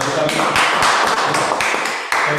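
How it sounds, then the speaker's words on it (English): A Toastmasters club meeting breaks into a short, lively round of applause, with the claps bunching into bursts that carry on steadily for a couple of seconds at close range. "we give a round of applause for the"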